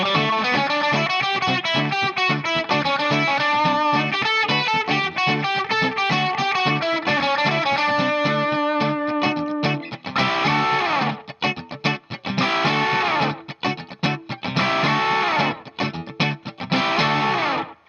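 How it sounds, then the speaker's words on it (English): A heavily distorted electric guitar plays a busy, driving riff with a quick echoing repeat on each note, loud and up front. "I've kicked up some distortion here and added a little bit of slapback delay"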